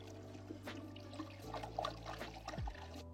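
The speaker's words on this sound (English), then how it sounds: "Top it up with the remaining water." Water poured to top up a wine kit fermenter, a soft steady trickle under a low droning hum that shifts pitch partway through.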